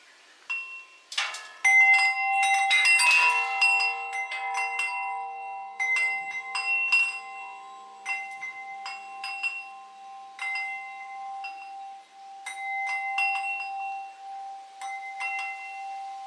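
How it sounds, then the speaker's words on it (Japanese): The Bell of Love in a hilltop tower on Koshinzan in Fujioka, Gunma, is struck repeatedly, each clear metallic ring sustaining and overlapping the next in quiet open air. "この塔は愛の鐘の塔というくらいだから、愛の鐘がある。 これを鳴らしてから、"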